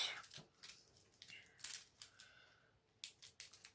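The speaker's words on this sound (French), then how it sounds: "820, hop, paire de ciseaux" A few quick snips of scissors cutting through a packet, close and crisp, with short pauses between cuts and light rustling.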